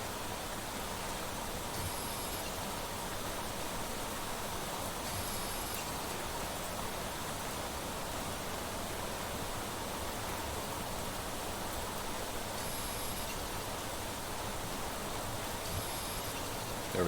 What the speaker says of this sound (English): Man, the rain's loud, huh?